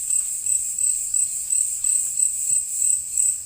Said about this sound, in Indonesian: jangkrik mulai keras, guys. Mulai ramai suara hewan-hewan di sini.